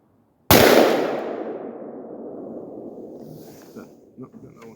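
A single sharp crack from an AR-15 rifle fired one-handed outdoors at long range, followed by a long, fading echo tail, then a few faint clicks and a quiet voice.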